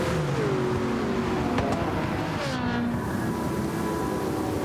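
Race cars roar around Le Mans in Gran Turismo 7, including a Ford GT, with loud engines revving, shifting and whining close by as several cars run together, steady and without talk.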